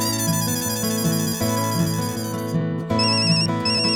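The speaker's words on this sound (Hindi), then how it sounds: "तारक का फोन।" A phone ringtone plays continuously, a melodic electronic tune cycling through a repeating phrase, loud and close, with no talking over it.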